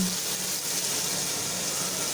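Water pours into a cooking pot in a steady, soft stream with a hissing splash, continuous for a couple of seconds at a moderate level.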